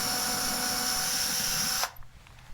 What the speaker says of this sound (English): I'm going to drill an 1/8" pilot hole right through that spot